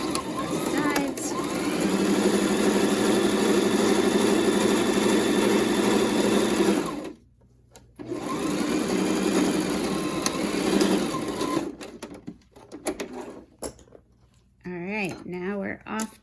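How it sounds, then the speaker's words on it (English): A sewing machine stitches the sides of a cloth medical mask with a fast, steady mechanical whir, stopping and restarting in bursts, while a voice talks over part of it. "We've sewn both sides."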